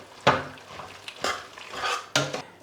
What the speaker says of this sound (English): I'll mix it together